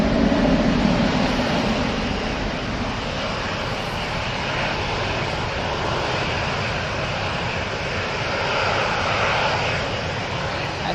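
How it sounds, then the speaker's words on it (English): Aer Lingus Airbus A321neo jet at Manchester airport, a loud steady engine roar that holds throughout with a slight swell near the end, no voices. "So we got the Aer Lingus 321 London."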